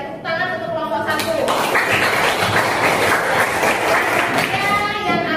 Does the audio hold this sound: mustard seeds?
no